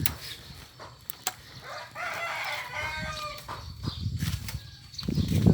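Farmyard chickens cluck and a rooster crows loudly nearby, among ducks, cattle and buffalo on a rural Thai homestead, with wing flaps and scattered bird noises around it and no speech.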